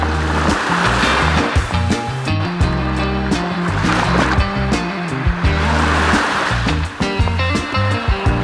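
Waves wash onto the Baltic shore at Jastrzębia Góra in a continuous broadband roar, with surges rising and falling every couple of seconds and no voices.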